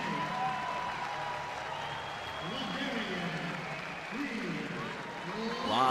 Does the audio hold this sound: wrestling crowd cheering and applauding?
yes